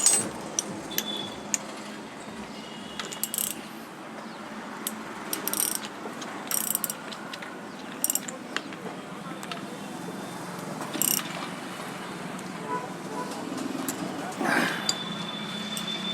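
Ratcheting hand tools tighten bolts on a Honda Splendor motorcycle engine during reassembly, giving repeated close clicking bursts and light metal clinks over a steady background hum, with some talk in between.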